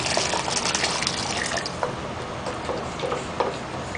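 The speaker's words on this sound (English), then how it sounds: "now we're going to add some boiling water to cover up the meat and the bones" Boiling water pours steadily into a pot of meat and bones for nihari, a continuous splashing hiss with small clicks and ticks throughout, close by and moderately quiet.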